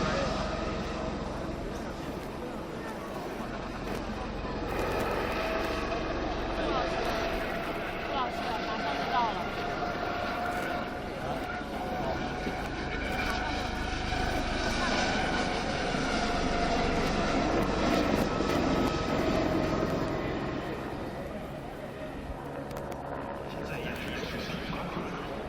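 Helicopter flying in an aerobatic display at an outdoor helicopter expo in Tianjin, with a continuous broad rotor and engine roar that swells and fades slightly, sounding fairly distant across the open air.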